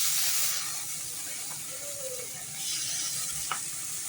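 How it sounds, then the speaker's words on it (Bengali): Washed lentils for khichuri hit hot oil in a kadai, giving a steady, close sizzling hiss that swells slightly near the end, with no voices. "কড়াটার তেলটা গরম হয়ে গেলে ডালটা কড়াতে দিয়ে দিলাম"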